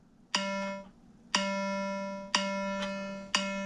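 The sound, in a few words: metronome and drone from Modacity practice app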